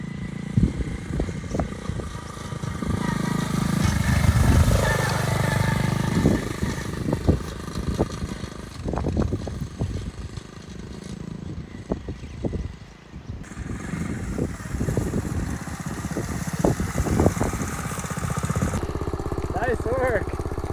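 An old motorcycle, about fifty years old, with an unusual seating position, being ridden by a young child, its engine buzzing and revving unevenly throughout while people talk over it.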